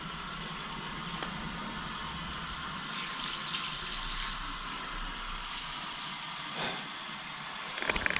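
Steady hissing spray of a lawn sprinkler running continuously, with a brief louder gush near the middle and a few sharp splashy clicks at the end.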